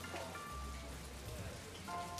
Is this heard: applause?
no